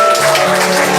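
A church audience applauds its song leader, a loud, steady burst of clapping filling the room with a faint tonal hum underneath.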